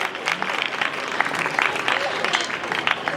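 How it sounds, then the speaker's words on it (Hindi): Audience at a church Christmas dinner clapping for two young girls, a dense steady patter of many hands filling the room for a few seconds, with some voices mixed in. "तालियां बजाएं"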